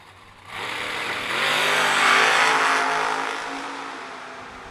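Drag race cars, including a Chevrolet Vega, launch and accelerate down the strip in a loud rising roar that swells, peaks and then fades as they pull away.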